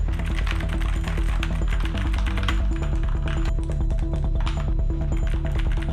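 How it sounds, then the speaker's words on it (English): Rapid, continuous clacking of typing on a Keychron K2 mechanical keyboard, dense overlapping keystrokes sounding close and steady throughout, with a faint voice now and then. "So we're gonna do the typing test and you guys are gonna see how slowly I type"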